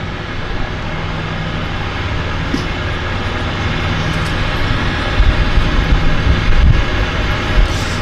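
A DHC Turbo Beaver floatplane's turbine engine runs at a steady, loud drone at a harbour seaplane base, with a broad continuous roar and slight swelling toward the end.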